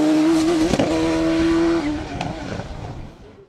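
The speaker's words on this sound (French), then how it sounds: "2e place de la classe E2SC2B derrière Gudet, au volant de sa Silvercar CS Turbo." A turbocharged race car on a hill climb course at Limonest holds a loud, steady engine note with a brief rev change midway, then fades into the distance. No one speaks.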